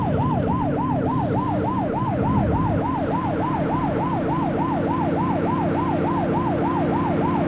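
Police car siren in The Precinct video game on Xbox Series X, a loud, close, fast wailing tone rising and falling in a steady regular cycle over a constant engine hum, with no talking.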